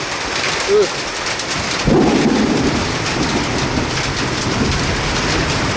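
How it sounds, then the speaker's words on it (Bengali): A hailstorm with steady heavy rain and a loud thunderclap, then sustained rumbling as rain keeps pouring. "শিলাবৃষ্টি হচ্ছে।"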